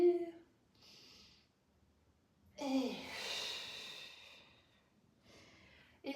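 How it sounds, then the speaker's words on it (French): A person draws a deep breath in during a spinal posture exercise, a clear airy inhalation of about two and a half seconds, close and moderately loud, with a shorter breath before it and another starting at the end. "Inspire."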